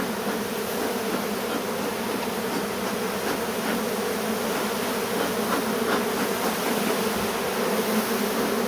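Honeybees buzz continuously around an open hive in a backyard apiary, a dense, close droning hum with individual bees zipping past now and then.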